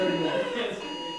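An electronic ringing or alarm tone sounds in a classroom, a sustained steady tone with layered harmonics under a noisy room of voices.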